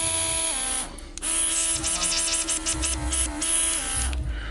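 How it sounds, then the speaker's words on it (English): Steady airflow hiss and motor whir from a Beam Team cordless compressor held close, with a brief dip in level near the start and no talking. "So you can hear the airflow come out of the top."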